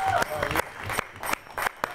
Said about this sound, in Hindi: जोरदार तालियों के साथ इनका स्वागत करेंगे।